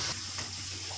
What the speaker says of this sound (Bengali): এভাবে সব বুঁদিয়াগুলো এরকম লাল লাল মতো করে ভেজে নেবো